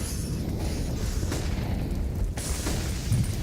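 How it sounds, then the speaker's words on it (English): Incendiary fire burning across a bomb site in a Counter-Strike match: a dense, continuous low roar and rumble, loud and steady, with faint crackling bursts on top. "Look at the carpets of flame on this bomb site"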